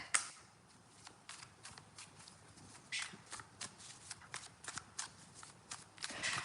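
Tarot cards are shuffled by hand between readings, giving a run of soft, quick riffling taps and flicks that come in irregular bursts, close but quiet, with no talk over them.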